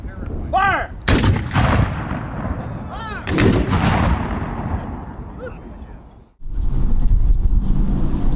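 Cannons fire at a Civil War battlefield reenactment at Goldsborough Bridge, two heavy booming blasts a couple of seconds apart, each rolling and echoing outdoors in wind, followed by a further distant rumble.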